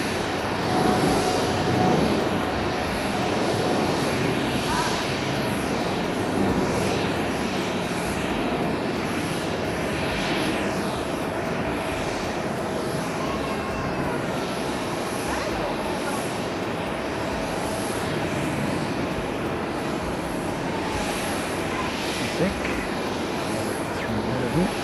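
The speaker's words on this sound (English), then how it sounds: "Taking off on the C runway." A Japan Airlines jet, flight JL73, takes off on runway C at Tokyo Haneda Airport, its engines a steady, loud broadband roar that holds without a break, with no clear talk over it.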